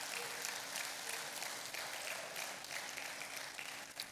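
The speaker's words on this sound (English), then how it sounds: "So please, a round of applause for him as he makes his way to the stage." Faint, distant applause from a summit audience as a panelist walks to the stage, a continuous soft patter of many hands clapping without a break.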